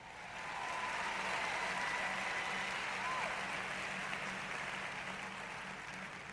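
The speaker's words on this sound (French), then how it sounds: "Allez, applaudissez Dave." A church audience applauds after a sermon, a dense, steady wash of clapping that swells in within the first half second and holds evenly throughout.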